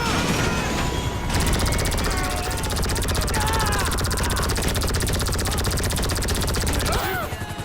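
Loud, steady helicopter rotor thumping in GTA Online dominates throughout, mixed with bursts of gunfire and faint shouting voices; the chopper noise cuts off abruptly near the end.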